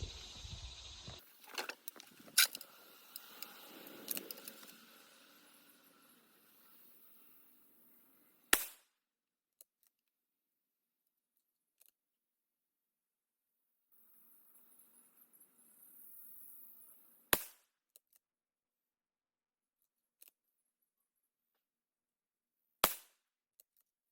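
.223 Remington rifle firing handloaded cartridges with 8.5 grains of Unique powder behind a Lee 225-55 cast bullet, starting from a cold bore: several sharp isolated reports spaced well apart, with quiet gaps and light handling noise between.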